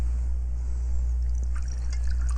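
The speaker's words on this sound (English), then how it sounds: "Take this and pour this in." Liquid poured into cookware partway through cooking gives a steady, soft trickle over a constant low hum, with no talking.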